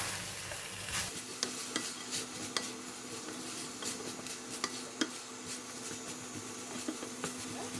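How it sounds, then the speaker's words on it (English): French beans are stirred into sizzling sambal in a pan, with a steady close frying hiss broken by several sharp utensil scrapes and clinks against the pan. "We're going to put in the beans. And give it a stir."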